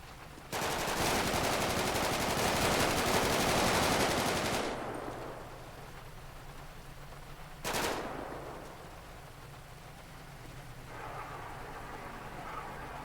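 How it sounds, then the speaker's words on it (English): Gunfire in a video game rakes a Bearcat armored vehicle, a loud, continuous burst of rapid rounds lasting several seconds. A single sharp crack follows after a pause, over a low steady background rumble. "Be advised that Bearcat's taking a lot of fire."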